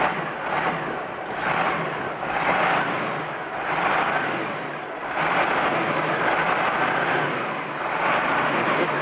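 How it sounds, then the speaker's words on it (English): Caterpillar 613C scraper diesel engine running steadily, rising and falling in a few swells as the throttle is worked, a loud continuous roar with no talk over it. "start the thing up and then just, you know, gun her a few times, rev it up a few times."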